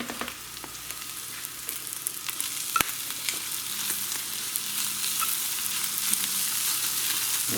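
Onions frying with meat in beef fat in a pan for a patty melt, giving a steady close hiss and sizzle with occasional stirring clinks and no speech.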